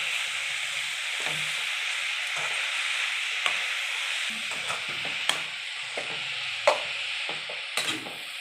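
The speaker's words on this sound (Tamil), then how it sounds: "சேர்த்து நல்லா கிளறி விடுவோம்." Grated coconut being stirred into cabbage poriyal frying in a pan, a steady soft sizzle broken by scattered scraping and clinking strokes of a spoon, close and fairly quiet, with no voices.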